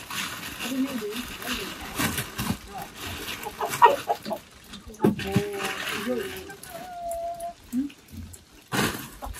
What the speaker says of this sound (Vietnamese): Bây giờ thì mấy con gà đấy có thể là đẻ trứng rồi, còn mấy con này thì phải nuôi thời gian nữa.